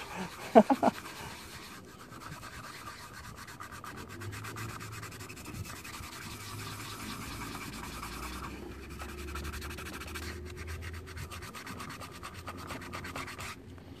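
A hand rubs wax onto a plastic rear panel of a GY6 scooter, giving a steady soft scrubbing sound that runs continuously at close range, with a few sharp knocks near the start and no talk.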